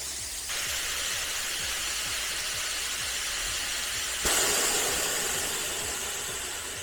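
A SEDA sandblaster fitted with an exhaust silencer runs with a steady loud hiss of rushing air over a low engine-like hum, the blast intensifying suddenly partway through and then holding steady.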